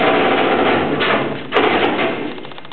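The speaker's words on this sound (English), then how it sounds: "the noise you heard is the inside of the right rear tire is hitting that inner wheel well" A tilt-bed truck's mechanism makes a continuous loud grinding noise as the bed lowers, with a single heavy thump midway as the inside of the right rear tire strikes the inner wheel well.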